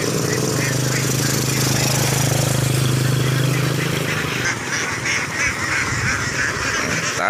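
A dense flock of about 230 Javanese ducks quacks continuously and loudly up close, a constant overlapping chatter with a mechanical rumble underneath.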